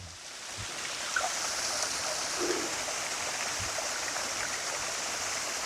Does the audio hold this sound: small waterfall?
yes